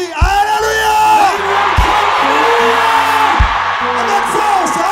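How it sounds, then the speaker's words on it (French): A large worship crowd at a Kanguka gospel event in Douala loudly shouts Alleluia in repeated swelling waves, voices yelling and whooping together in a big reverberant space. "Que chacun crie Alléluia."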